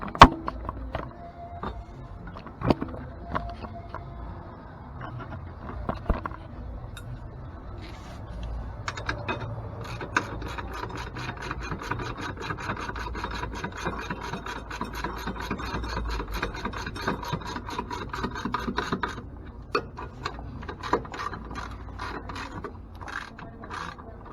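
A ratchet tightening bolts while fitting Rough Country running boards to a 2015 Ford F150, with repeated rapid clicking and rasping strokes in bursts, close and fairly loud, with no talk.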